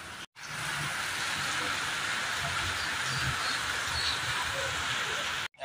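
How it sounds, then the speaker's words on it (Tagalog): Dense, steady hiss of heavy rain pouring down, continuous and loud, briefly cutting out at the start and end, with a faint voice underneath. "Kaya pala ang lakas ng ulan ka na yan"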